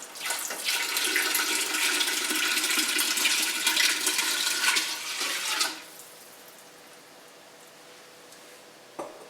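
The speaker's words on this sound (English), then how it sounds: "So I'm going to go ahead and add in another 8 cups of water." Water gushing into a soup pot for sausage ravioli and kale soup, a loud steady rushing pour for several seconds that cuts off abruptly, leaving a faint hiss and a small clunk.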